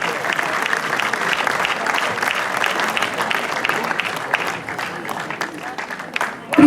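Outdoor crowd at the Vurberk 2022 festival award ceremony breaking into strong, sustained applause, dense clapping filling the space evenly before a brief dip near the end.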